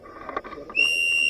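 A referee's whistle is blown at an outdoor airsoft field, a sharp shrill blast that starts partway through and holds steady to the end, following faint murmuring and rustling.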